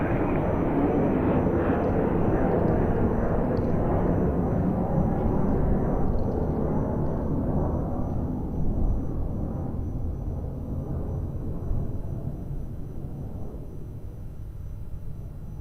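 A plane landing on runway 02 at Lisbon Airport produces a loud, deep rumbling roar that gradually fades and thins toward the end, with no talking.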